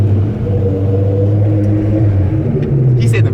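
The V10 engine of a BMW E60 M5 holds a steady, loud, droning idle with a slow shift in pitch, under faint background noise.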